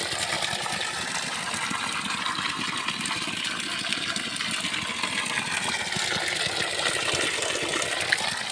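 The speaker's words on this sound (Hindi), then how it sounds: "ये पानी यहाँ से धारे पे जा रहा है, यहाँ से ऊपर से आता है ये पानी।" Water from a village spring runs along a hillside channel, a steady close rushing and gurgling flow that continues without a break and with no talk over it.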